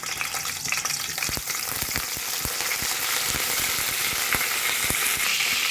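Green chillies and curry leaves frying in hot oil, a loud continuous sizzle close up, dotted with sharp crackles and pops throughout, no talking.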